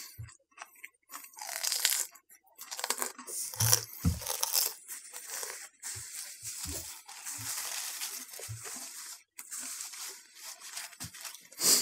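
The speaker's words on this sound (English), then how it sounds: "Last time we had this stuff, it wasn't as crunchy. This time it's way crunchier" Crusty French baguette eaten with spaghetti gives repeated close, crisp crunches and tearing bites in irregular bursts, heard alone without talk.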